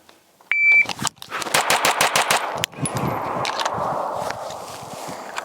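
Atlas Ares Commander pistol fired from concealment, starting with a shot timer's beep and then a rapid string of about six sharp, closely spaced shots, followed by rustling and softer noise.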